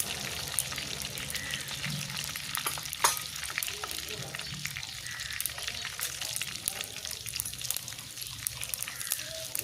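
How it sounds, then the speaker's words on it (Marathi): Cumin seeds and mustard seeds crackle and sizzle steadily in hot oil, tempering a kardai leaf vegetable dish, a continuous close frying hiss with small pops throughout. "त्यानंतर 1 चमचा जिरे टाकले"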